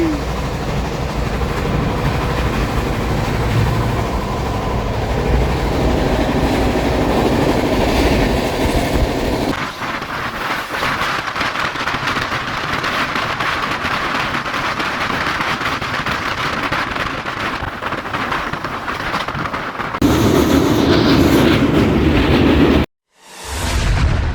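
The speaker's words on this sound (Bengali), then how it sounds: "ট্রেনটা চলছে দেখো" An express train runs steadily on its rails, a continuous loud rumble with rattling wagons throughout, the texture shifting partway through and turning harsher near the end before a brief dropout.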